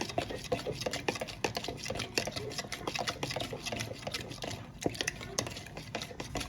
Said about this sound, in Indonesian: Lalu ini diaduk hingga larut.